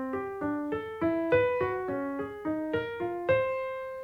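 A pitched instrument plays a circle of fifths folded into one octave, sounding all twelve notes one after another in a steady, even rhythm, each note ringing clearly and alone.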